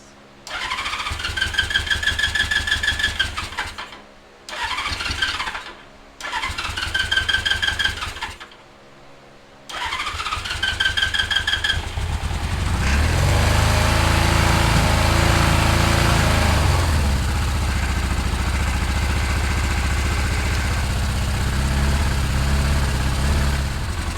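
A 1977 Suzuki GS550 motorcycle cranks on choke with several bursts from the starter, then catches and settles into a steady, loud, close idle after carburetor cleaning; no one speaks.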